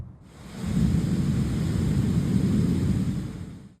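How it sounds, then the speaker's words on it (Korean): A long, deep roll of thunder from a night thunderstorm swells after a quiet start and rumbles steadily for several seconds before cutting off, heard alone without voices. "비를 피해 터널로 대피한 주민은 천둥 소리에 화들짝 놀랍니다."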